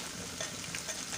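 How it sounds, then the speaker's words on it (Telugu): Tempering sizzles and crackles in a hot pan as onions and green chillies fry for a lentil curry, a soft, steady hiss with faint stirring clicks, heard alone. "ఇప్పుడు చూడండి, పోపు వేగిపోయింది"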